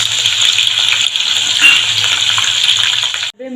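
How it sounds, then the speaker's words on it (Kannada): Green chilies fry in hot oil with a loud, steady, close sizzle and hiss that continues without a break, then cuts off sharply near the end. "ಮೆಣಸಿನ್ಕಾಯಿ ಸ್ವಲ್ಪ ಫ್ರೈ ಮಾಡ್ಕೊಂಬಿಡೋಣ್ರಿ"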